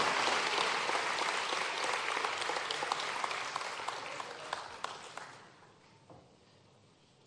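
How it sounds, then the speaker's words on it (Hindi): An auditorium audience in Bhopal gives loud, sustained applause to welcome the chief minister at a ceremony for selected civil services candidates, with dense clapping that fades out toward the end. "जोरदार तालियों से माननीय मुख्यमंत्री जी का स्वागत करिए।"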